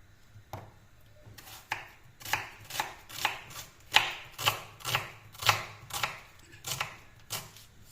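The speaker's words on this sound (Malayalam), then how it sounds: "ഒരു സവാള വേണം ഇതേ മല്ലിയുടെ ഇല ചോപ്പ് ചെയ്തെടുക്കണം" A knife chopping onion and coriander leaves on a board, a steady run of about a dozen crisp, evenly spaced chops, close and distinct with quiet pauses between strokes.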